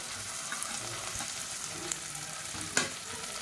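Sliced onions with mint and coriander sizzle and fry steadily in hot oil, with a few faint stirring clicks and a sharp tap near the end.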